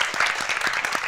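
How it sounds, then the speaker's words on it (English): An audience claps after a debate speech on whether violence is sometimes justified, a brief burst of steady, fairly close applause with no voices over it. "there was a bit of warmth in that applause as well"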